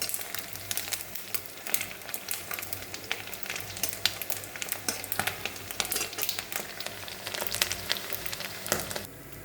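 Rice pakoras fry in hot oil, a steady dense crackling sizzle with sharp pops throughout, close up and with no talk.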